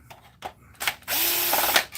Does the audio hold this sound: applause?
no